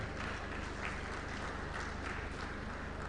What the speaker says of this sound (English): May I request all the men in the audience to clap for the women.